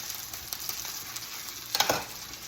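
Onions sizzling in a pan over medium heat, a steady close crackle with soft stirring scrapes and a brief louder flare near the end, with no voices.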